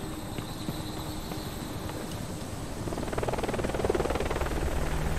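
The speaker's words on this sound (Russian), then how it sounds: "Опять вертушка пролетела." Helicopter flying over in the video game Deadlight Director's Cut, a steady rhythmic rotor thumping that grows louder and closer through the second half, with no talk.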